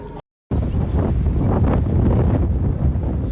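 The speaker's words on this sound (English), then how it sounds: "It's getting windy." After a brief moment of silence, strong wind roars across the microphone in a loud, continuous rumbling gust.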